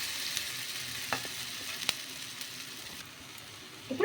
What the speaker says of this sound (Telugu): ఇందులోకి ఇలా ఒక గరిటె పిండిని అయితే వేసుకొని ఇలా ఈ విధంగా కొంచెం స్ప్రెడ్ చేసేసుకోవాలి